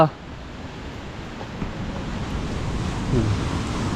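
Steady wash of surf rolling onto a shore, a continuous hiss with gentle swells, touched by wind noise on the microphone.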